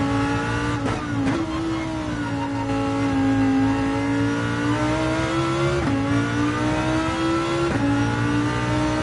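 Lamborghini engine in Gran Turismo 7 revving hard and steadily at high pitch, with brief dips at gear shifts, loud and continuous throughout.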